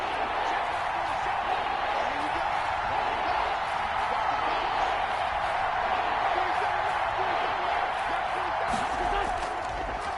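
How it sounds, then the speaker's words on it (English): Stadium crowd noise in the video game Madden 21 during an NFL game between Washington and the Eagles, a steady broad roar with faint cheering that holds at an even level throughout. "The crowd getting into it as we come up on a big 3rd down."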